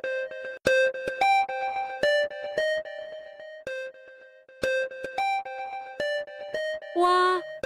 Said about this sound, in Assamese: ফোনটো ৰিং হৈ আছে, গমেই পোৱা নাই নে?